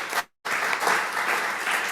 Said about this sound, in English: Monique, please, a round of applause.